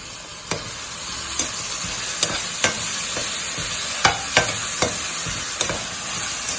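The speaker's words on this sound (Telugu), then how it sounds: "ఇప్పుడు ఈ రొయ్యలు ఇలా వేసుకుందాం." Boiled prawns, seasoned with salt, chili, turmeric and ginger-garlic, tipped into a pan of spinach curry and stirred, giving a steady soft sizzle punctuated by sharp spoon clicks against the pan.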